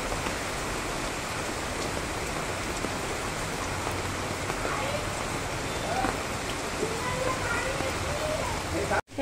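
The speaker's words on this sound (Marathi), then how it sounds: "असा हा आमच्या इथला पाऊस खूप छान ओसंडून वाहतोय" Heavy monsoon rain pours down in a dense, unbroken hiss, while a person talks quietly over the downpour.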